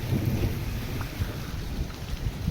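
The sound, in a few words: rain and thunder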